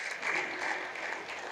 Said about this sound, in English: I'd like us to give our panelists a round of applause.